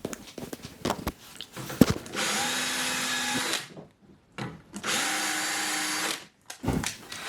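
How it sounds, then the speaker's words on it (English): A power drill bores into a brass tea can in two sustained whirring bursts of about a second and a half each, close and loud, with short clicks and handling noises around them. "This is my special drilling technique specifically for brass."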